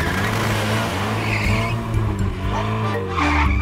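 A weasel's new cartoon sports car skids with a loud, sustained tire squeal over a revving engine, sliding and screeching throughout before a final burst of squealing, with no talking.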